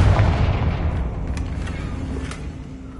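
A magical Confringo blasting spell explosion effect, one deep rumbling boom that fades away over a few seconds, loud and alone.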